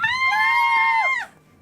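A voice imitates distant screaming from a city, one long high wailing cry held steady for about a second before sliding downward and fading out.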